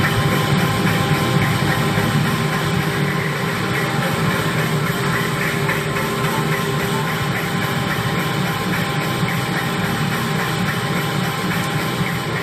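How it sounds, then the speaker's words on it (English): An all-digital sheet-fed printing press running at offset press speeds gives a steady, loud, continuous mechanical roar with a low rumble and broad whirring, unbroken and close throughout, with no voices. "Can you even imagine what an all-digital sheet-fed press printing at offset press speeds would look and sound like?"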